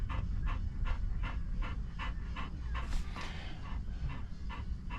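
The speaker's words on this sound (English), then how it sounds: "You can hear him panting." A Labrador pants rapidly and steadily inside a moving vehicle, a rhythmic run of close breaths over constant low road rumble, with no talking.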